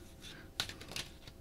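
Tarot cards being shuffled by hand in a quiet room, a few crisp riffling bursts and soft flicks spread over a second and a half, fairly faint and close with no talking.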